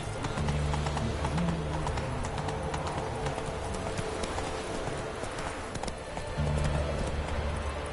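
Horse hooves clip-clop steadily in the open-world game The Witcher 3, a continuous rhythmic trot close up under a low game soundscape.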